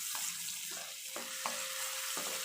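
Sliced onion frying in a hot pan over the stove, a steady close hiss of sizzling oil with a few brief clinks and stirring scrapes rising above it, no voices.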